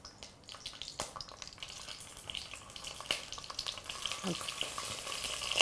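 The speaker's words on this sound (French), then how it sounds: "Je vais commencer donc par mettre un peu d'huile à chauffer. Je mets les saucisses entières." Whole sausages fry in a little hot oil, a faint, close crackle with irregular small pops and sputters that grows slightly busier as the seconds pass.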